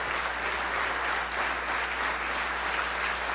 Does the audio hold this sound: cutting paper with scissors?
no